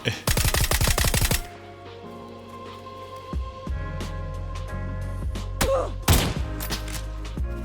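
Rapid automatic gunfire in the PUBG video game, played on Xbox on the Miramar map and attributed to a VSS rifle, with a loud burst at the start followed by scattered single shots and thuds over a background hum.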